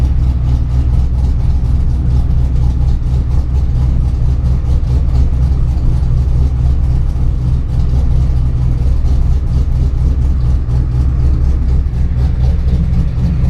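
A 1993 Mazda RX7 with an LSx V8 swap idles steadily up close, a deep continuous burble with a slightly uneven lope and no talk over it.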